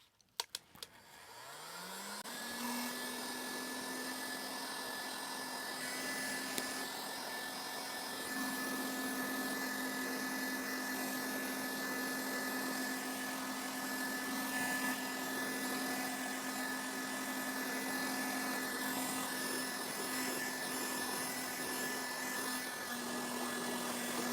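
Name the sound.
heat gun blowing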